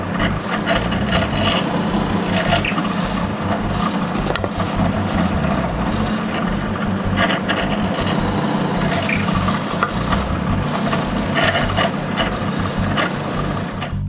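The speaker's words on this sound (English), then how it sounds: "punch them in the center, and drill them." A continuous whirring drill bores dowel holes into wood for intarsia bookends, buzzing steadily with gritty grinding and brief variations in pitch, close up and without talk.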